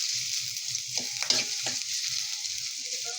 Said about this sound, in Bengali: তেল দিয়ে দেওয়া হলো আগে থেকে কেটে রাখা পেঁয়াজ কুচি